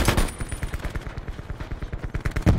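Rapid automatic gunfire in a video game, a steady rhythmic stream of sharp shots lasting a couple of seconds, fairly close and unaccompanied by talk.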